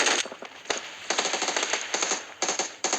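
Rapid bursts of automatic gunfire in a shooting video game, loud and close, with short pauses between repeated volleys and no talking.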